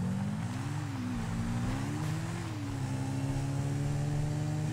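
A quad bike engine in GTA V runs steadily nearby, a droning motor that rises and falls slightly in pitch, loud and continuous with no talking over it.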